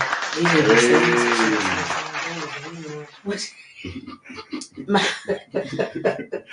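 A small group claps in a podcast studio, a short patter of claps that breaks out after a stretch of laughter and talk and continues under conversation.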